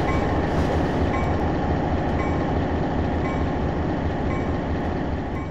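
Santa Fe PA diesel locomotives rolling slowly through a large station in a Trainz 2022 railroad simulation, a loud continuous rumble of engines and rail noise with no voices.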